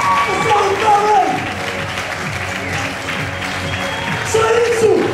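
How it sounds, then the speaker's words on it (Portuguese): Circus crowd in Portugal applauds in a steady wash of clapping while voices call and shout over it, swelling again toward the end. "ninguém para de bater palmas enquanto eles vão aparecer!"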